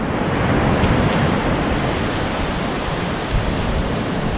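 Surf waves breaking on a Florida beach, a loud, continuous wash of roaring water with some wind buffeting the microphone.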